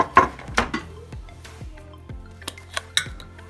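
A cooking pot is picked up and set down in a kitchen, giving a few close metallic clanks and clinks with ringing tails, spaced irregularly with quiet gaps between.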